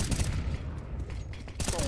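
Dense, loud gunfire rattles almost without a break during a Counter-Strike match in the ESL Pro League, mixed with grenade-heavy fighting and overlapping bursts of shots.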